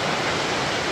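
Gandahati waterfall, swollen and heavy after a recent cyclone, roars as a loud, dense, continuous rush that fills the whole moment.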